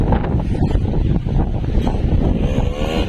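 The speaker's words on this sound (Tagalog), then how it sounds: "Grabe ang hangin, napakalakas." Strong wind roars loudly and continuously against the microphone at a school vegetable garden after Typhoon Kristine, a heavy, rumbling buffeting with no voices.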